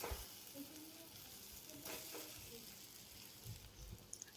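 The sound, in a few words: sautéing turmeric, green chili paste and mashed potatoes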